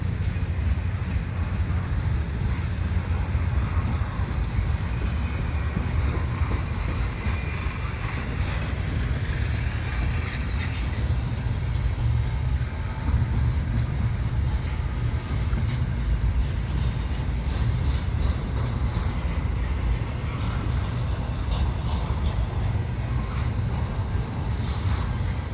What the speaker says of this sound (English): This is one really long train.